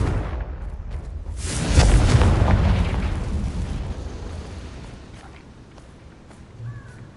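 Confringo blasting spell in Hogwarts Legacy, a loud booming explosion that swells quickly and then rumbles and fades slowly over several seconds, with a faint cawing crow near the end.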